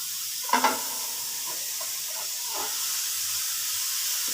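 Grated carrots go into a hot kadhai over medium flame for gajar halwa, with a brief clatter as they drop in, then a soft, steady sizzle and hiss continuing alone.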